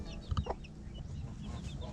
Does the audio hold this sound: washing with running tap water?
no